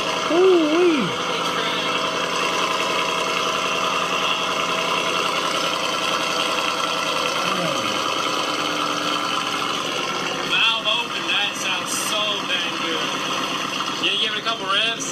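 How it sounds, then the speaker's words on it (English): A car engine fires on a cold start and settles into a loud, aggressive idle, with a couple of revs later on. Someone talks over the engine throughout. "Cold start is freaking aggressive"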